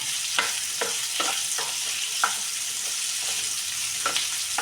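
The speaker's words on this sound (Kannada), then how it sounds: "ಈ ಥರ ನಾವು ಎಣ್ಣೆಲೆ ಸ್ವಲ್ಪ ಫ್ರೈ ಮಾಡ್ಕೊಳ್ಳೋಣ" Hill gooseberry pieces frying in oil, giving a steady close sizzle with a string of soft stirring scrapes and clicks from the pan, alone without talk.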